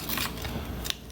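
Knife cutting the edges off a garden vegetable on a board, a brief dense crunching and slicing sound, close and steady, ending with a sharp snap.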